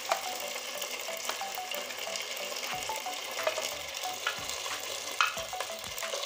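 Ginger, garlic and dried red chili paste is stirred as it fries in a pan, giving a steady sizzle broken by spoon scrapes and small clinks.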